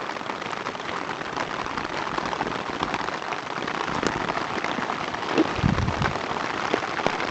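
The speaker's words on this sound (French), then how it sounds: "s'il arrête de pleuvoir" Steady rain falls on a surface, a dense even hiss of drops with no voices, constant and fairly close.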